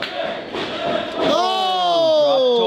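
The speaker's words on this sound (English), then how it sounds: "Listen to this crowd get behind you" A wrestling crowd at an independent pro wrestling match roars and cheers loudly, a swelling chant rising and sustaining into sung-like unison voices, with a commentator's brief word heard early in the clip.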